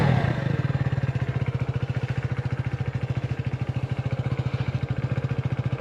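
A 150cc motorcycle engine catches and settles into a steady, rhythmic idle, a loud close chugging pulse that holds evenly throughout with no voices.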